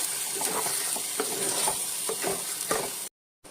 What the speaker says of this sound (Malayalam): എന്നിട്ട് ഈ എണ്ണക്കകത്ത് കിടന്ന് ഈ അരപ്പൊന്ന് നല്ലോണം എടുത്ത് വെക്കണേ